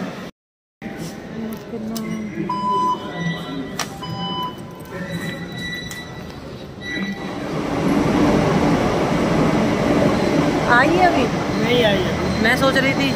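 A Delhi Metro train pulls into a station, its low rumble swelling steadily louder over several seconds and ending with faint wheel squeals, while people talk nearby on the platform.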